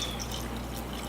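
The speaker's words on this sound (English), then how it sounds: "So I'm going to go ahead and add me some water" Water poured into a pan of simmering homemade enchilada sauce, a steady close-up liquid pour with a bubbling, hissing wash and no talk.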